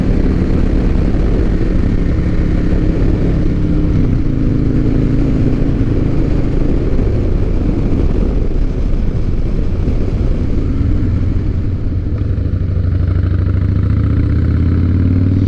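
A 2007 Harley-Davidson Night Train motorcycle engine runs loudly and close by, with a continuous deep rumbling throb that holds steady throughout.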